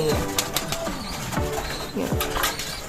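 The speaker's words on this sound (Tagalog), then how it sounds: "napakagandang ibon" Soft bird coos repeat a few times amid rustling and light background noise, close by.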